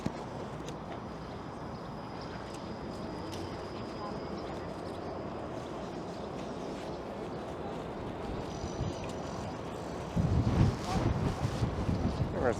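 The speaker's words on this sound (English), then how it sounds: "No, it's quite windy." Wind gusting on a downtown Toronto street, a steady broadband rush with a louder buffeting burst near the end, as if striking the microphone, and a person speaking under it.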